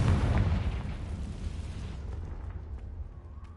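A Confringo spell blast in the video game Hogwarts Legacy: a loud, deep explosive boom at the start that rumbles and decays over a few seconds.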